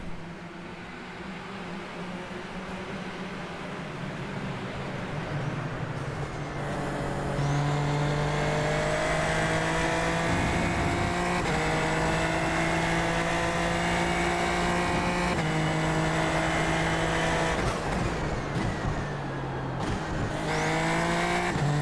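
A pack of race cars roars off the grid at the start of an iRacing race, engines building into a loud sustained drone with shifting pitch and gear changes, close and continuous with no voices.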